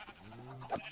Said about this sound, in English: There's a sheep still in here.